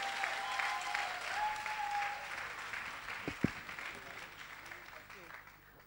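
At a church New Year's Eve service, a crowd applauds and cheers for a performer, a broad wash of clapping with a faint sustained voice or tone early on and a couple of sharp sounds midway, slowly fading.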